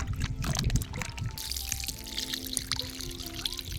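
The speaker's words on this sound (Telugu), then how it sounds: "ముందుగా మటన్ నీట్గా బాగా కడుక్కోవాలి" Water pours and splashes steadily at close range while mutton is washed in a kitchen, a continuous trickling stream with handling noise.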